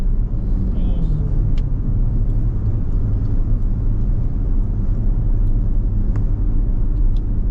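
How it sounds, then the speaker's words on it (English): A car drives through Las Vegas traffic, giving a steady loud interior road rumble and low engine drone throughout, with faint talking inside the cabin. "And also the Las Vegas traffic."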